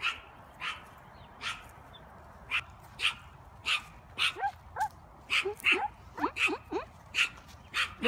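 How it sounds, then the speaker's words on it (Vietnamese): A dog in a home garden barks over and over at an irregular, quickening pace, with sharp yips and a few whimpers. The barks sound moderately distant and stand out against quiet outdoor background noise. "Chó, chó, chó, chó, chó."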